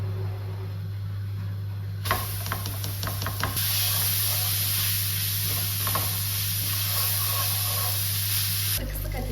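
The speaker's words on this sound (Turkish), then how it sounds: "Şimdi bulgurumu yıkayacağım." Bulgur being rinsed under a running kitchen tap: a hissing stream of water that swells louder midway, with a few clattering knocks against the bowl early on.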